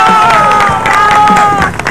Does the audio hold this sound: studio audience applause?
yes